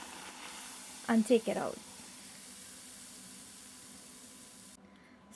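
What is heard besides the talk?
doubles dough frying in hot oil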